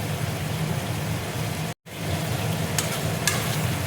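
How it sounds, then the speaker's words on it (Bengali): Slit green chilies sizzle loudly in hot mustard oil as they are added to a fish tok. The frying sounds steady and close, with a brief dropout partway through and a few sharper crackles near the end. "কাঁচা লঙ্কা দিয়ে দিচ্ছি।"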